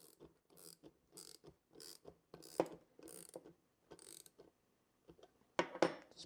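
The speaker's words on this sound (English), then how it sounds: "We can just tighten up this lock nut here a little bit." Lock nut on a Kreg Top Track flip stop being tightened, giving a series of close, quiet ratcheting clicks and small metallic turns in an uneven rhythm, with a louder clatter near the end.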